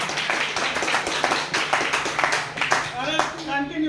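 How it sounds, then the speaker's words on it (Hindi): Audience applause at a team seminar, a steady crowd of clapping hands filling the room, with a voice starting to speak near the end. "चलिए जोरदार ताली होनी चाहिए अनूप जी के लिए"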